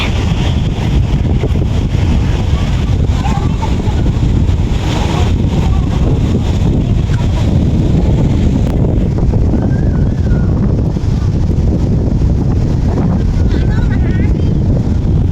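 Strong wind roars and buffets the microphone on the elevated OCBC Skyway walkway in Singapore, a loud continuous rush lasting the whole stretch, with people chatting underneath.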